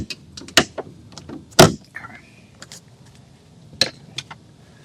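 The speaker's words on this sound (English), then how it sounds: "I also like to test my door lock too" A few sharp clicks and thumps of a power door lock being tested on a 2005–2009 Subaru Legacy, with one brief motor whir between scattered mechanical clacks close by.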